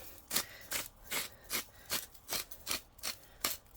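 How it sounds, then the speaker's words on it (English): Hand grinder cranking salt and pepper onto boneless top sirloin steaks, a soft rasping crunch repeated in nine even strokes at a steady rhythm, close but quiet. "let's go ahead and just grind some salt and pepper on them"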